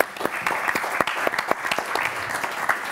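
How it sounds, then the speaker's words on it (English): Audience applause after a panel at an energy transition leaders forum, a steady patter of many hands clapping for a few seconds, filling the room at moderate distance. "A round of applause"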